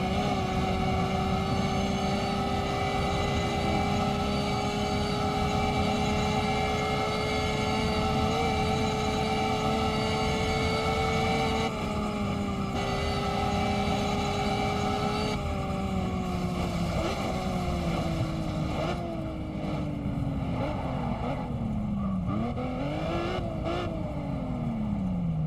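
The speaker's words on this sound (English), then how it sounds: "There's that transmission whine. The gears are loud." A car cruising from Kolekole Pass to Ka'ena Point gives off a loud, continuous gear whine above the engine. The pitch holds steady, then slides and wavers as the car slows and speeds up.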